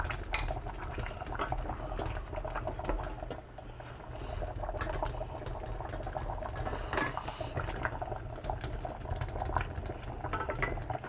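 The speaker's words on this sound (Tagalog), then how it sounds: "Kumukulo na po yung tubig natin." Water boils steadily at a low, even bubbling churn, a continuous rolling simmer with no voices.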